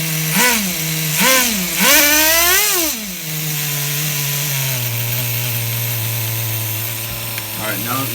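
A nitro engine in an HPI RS4 RC car with an F150 body, running on the bench, revs sharply three times with rising and falling whines, then settles into a steady, buzzing idle.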